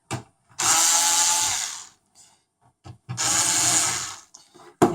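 A power screwdriver backs T9 screws out of a PS4 console in two loud, close whirring bursts of about one and a half seconds each, separated by quiet clicks and handling noises.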